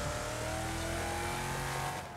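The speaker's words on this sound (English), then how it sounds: "I can just hear that this car is all messed up" A damaged race car in the Wreckfest demolition-derby game drones with a steady engine tone and rough mechanical noise, moderately loud and continuous with no talk.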